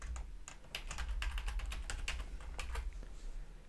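Fingers tap out a username and password on a computer keyboard in quick irregular bursts of crisp clicks, close and fairly quiet, with no talk over them.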